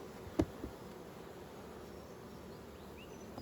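Honey bees buzzing around a hive during spring nucleus making, a faint, steady drone with one brief close pass of a single bee, no voices.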